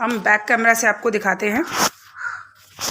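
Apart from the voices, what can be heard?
crow cawing while perched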